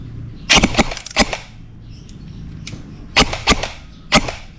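Sharp, snappy shots from an E&C EC-105 Special Edition airsoft rifle, several in quick pairs and singles, loud and close with short quiet gaps between them.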